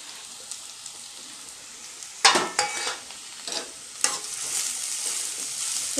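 Cut vegetables land in hot oil with sautéed onions for semiya upma and frying flares into loud sizzling, then spoon stirs bring several sharp bursts before the hiss settles to a steady sizzle, with no talking.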